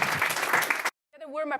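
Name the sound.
audience applause for the speaker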